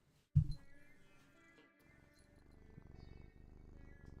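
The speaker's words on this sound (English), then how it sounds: "You can hear her purring." A domestic cat purrs close to the microphone after a short bump, a soft, steady rhythmic rumble continuing to the end, alone with a faint background hum.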